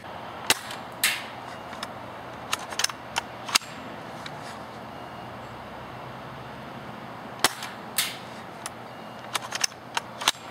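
A series of crisp snapping shots from an A&K SVD II Dragunov spring airsoft sniper rifle at uneven intervals, some followed by faint ticks or clicks, close and dry with quiet gaps between them.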